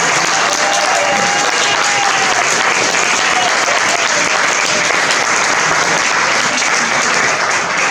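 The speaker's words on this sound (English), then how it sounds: "I'd give her another round of applause." A large audience at a health forum gives a round of applause after a talk, a loud, dense and continuous roar of clapping that holds steady from start to finish.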